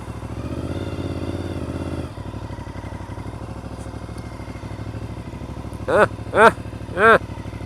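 Moped engines putter and drone steadily nearby, with a few sharp whining revs near the end and a voice speaking over the noise.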